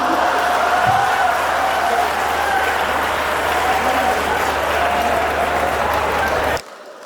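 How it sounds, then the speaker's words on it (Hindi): A theater audience at a Hindi comedy show claps loudly and steadily in dense, sustained applause lasting several seconds before cutting off abruptly. "पूरा सदन तालियों से गड़गड़ाना"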